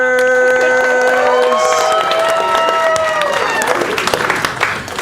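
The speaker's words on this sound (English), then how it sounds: "Keep an applause going for your 3 directors." An audience applauds and cheers for three film directors at a showcase event, a loud continuous roar of clapping and whoops beneath sustained musical tones that fade out early, with voices calling out over the crowd.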